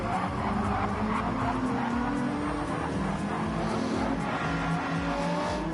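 Race cars in a WTCC touring car racing game at the Catalunya National circuit, engines roaring loudly and continuously with tire squeal and skidding as a car brakes on gravel, under steady engine noise.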